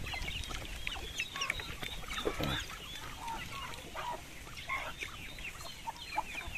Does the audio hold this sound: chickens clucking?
yes